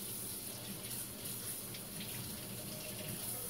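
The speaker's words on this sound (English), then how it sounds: "I had to rinse this off here." Tap water runs steadily into a sink while something is rinsed off for a rose petal blush recipe, a constant close hissing gush with no talk over it.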